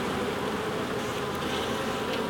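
Honey bees swarm around an open hive during an October check, a dense, steady buzz that stays close and loud throughout with no voices.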